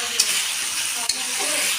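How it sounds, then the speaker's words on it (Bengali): Bhola fish sautéing with potatoes, onions and spices in a pan gives a loud, steady close sizzle, broken by two brief knocks of a utensil. "এবার মাছগুলো দিয়ে দিলাম, দিয়ে একটু কষাবো যাতে মাছের মতো মশলাগুলো ঢুকে যায়।"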